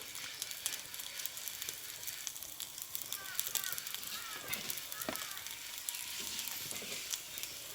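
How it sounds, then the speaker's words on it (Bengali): A tiffin snack frying in a pan, cooked on both sides, gives a steady close sizzle and crackle with a few light clinks of utensils, while someone speaks throughout. "এইভাবেই কিন্তু আমি দুই পিঠ আমি ভেজে নেব"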